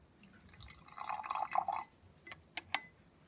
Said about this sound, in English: just add some water to this.